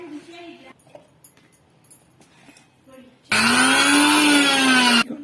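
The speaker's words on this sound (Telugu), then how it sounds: "దోశకి రుబ్బినట్టు రుబ్బాలన్నమాట. ముందు కంద ముక్కలు వేస్తాను" Mixer grinder blending soaked raw elephant yam pieces into dosa batter, a loud steady whirring grind that starts abruptly after quiet kitchen sounds and low talk, runs about two seconds, then cuts off.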